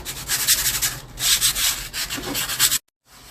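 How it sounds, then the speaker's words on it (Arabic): Sandpaper rubs briskly back and forth across the base of a decoupage tray in short, close strokes, a dry raspy scratching that stops abruptly near the end. "صنفرت القاعده بتاعت الصينيه"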